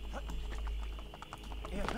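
Brisk clip-clop of horse hooves in the video game Assassin's Creed Brotherhood, a quick run of close steps over a low rumble.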